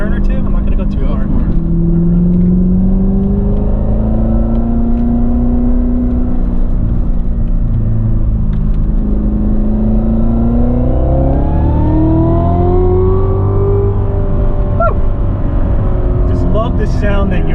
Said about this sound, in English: The supercharger is also producing a very high-pitched whine.